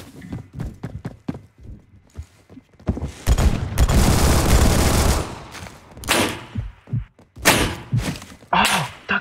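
Rapid sniper rifle fire in the first-person shooter Phantom Forces, a burst of loud sharp shots followed by a long dense roar of gunfire, then scattered thuds and blasts, with no talk.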